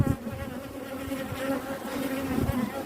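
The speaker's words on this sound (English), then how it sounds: "Hurry, girls." Honeybees buzz at an opened beehive, a close, continuous droning hum that is dense and steady.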